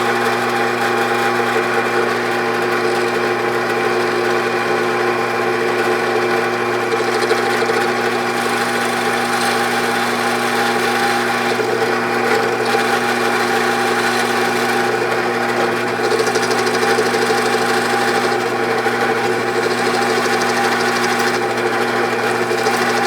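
A drill bores a 5/8 inch hole through a 2 by 2.5 inch wooden block, a loud, steady motor whine with an even droning hum that runs close and continuous throughout.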